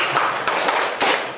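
A group of people clapping on a spoken count, with several quick claps standing out over a dense, noisy background in a rehearsal exercise.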